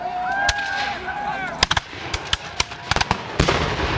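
Musket volleys at a historical battle reenactment, with Crown forces firing Brown Bess muskets and Baker rifles: a series of loud, sharp gunshots cracking irregularly over several seconds, some in quick clusters, with bird calls early on and no talking.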